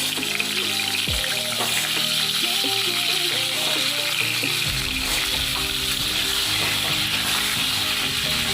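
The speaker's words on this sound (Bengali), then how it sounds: "গরম হয়ে গেছে আমি সামান্য হলুদ দিলাম আলুগুলো ভেজে নেবো ভালো করে" Potatoes with turmeric fry in hot oil, giving a loud, continuous sizzle close up, with occasional stirring scrapes and rattles of the pan breaking through, and no voices.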